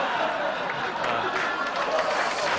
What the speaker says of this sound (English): Gee, applause. I got applause already.